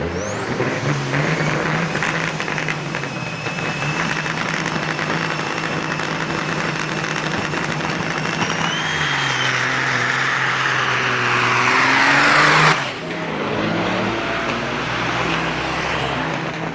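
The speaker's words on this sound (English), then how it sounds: "That's a powerful truck." A Kenworth K100 big rig with a Caterpillar engine pulls at a speedway truck-pull event, its engine roaring and rising in pitch under strain before an abrupt cutoff with a hiss of air, loud and close.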